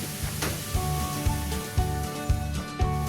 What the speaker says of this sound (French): Et on va les mélanger.